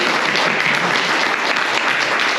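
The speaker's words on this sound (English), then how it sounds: "so I think that deserves a round of applause" Wedding guests clapping during a speech, a full and loud wash of applause from a roomful of people that holds steady throughout with no voices above it.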